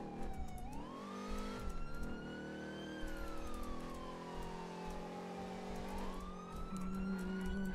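Police siren wails through a video game car chase, its rising and falling tone sweeping steadily over a loud car engine roar, continuous and close for the whole stretch.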